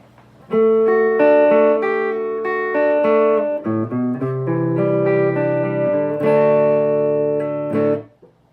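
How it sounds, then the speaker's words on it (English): Clean electric guitar chords and picked notes ring out through an amp, played alone with clear sustained tones and a brief pause before the final strums. "So this is just the power amp itself for clean."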